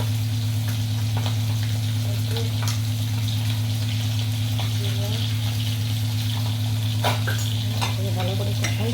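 Fish coated in turmeric and chili sautés in a pan for a fish curry, a steady sizzle with scraping stir strokes, under a constant low electrical hum and occasional faint voices.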